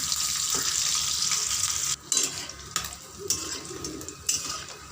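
Mourala fish fritters fry in oil over medium heat, giving a steady close sizzle broken by several sharp clinks and scrapes of a utensil turning them in the pan.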